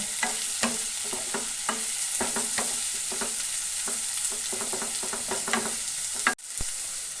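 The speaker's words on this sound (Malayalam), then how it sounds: "ഉള്ളി, തക്കാളി ഇട്ട് കൊടുക്കുന്നുണ്ട്. അതുപോലെ ക്യാപ്സിക്കം ഇതെല്ലാം ഇട്ട് കൊടുക്കണം കേട്ടോ. ഇതൊന്ന് മൂടി വെച്ച് വഴറ്റിയെടുക്കണം." Onion, tomato and capsicum sauté in a pan for an egg gravy, a steady close sizzle broken by frequent scraping strokes of a spoon, with no talking and a brief clunk near the end.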